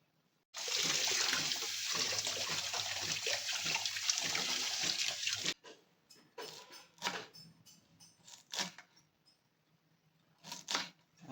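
Water runs steadily for about five seconds as leafy chai bhaji greens, a wild vegetable gathered from the forest, are washed by hand, followed by scattered splashes and handling noises.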